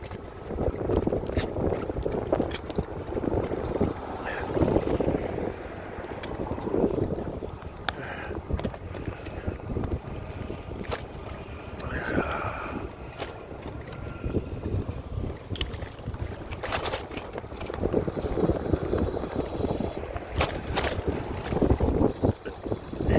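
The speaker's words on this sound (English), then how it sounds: "wind's out of the east-southeast" Steady wind buffets the microphone during an outdoor bike ride, a continuous rushing roar with gusty swells and occasional sharper bumps, close and fairly loud throughout with no talk.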